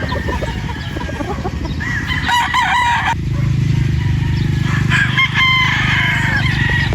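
Sweater gamefowl roosters crow on a farm, one loud nearby call followed by another long crow, over a dense background of clucking and other birds.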